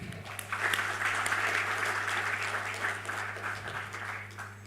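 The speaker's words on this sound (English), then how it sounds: "So please join me in giving them a warm round of applause." An audience at a college graduation ceremony gives a warm round of applause, a broad and even patter of many hands over a low steady hum, with individual claps standing out now and then.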